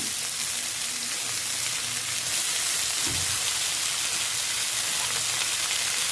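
Kolmi greens frying with onion, garlic and green chilli in a pan, giving a dense, even sizzle that holds steady throughout, close by, with a faint low thump partway through.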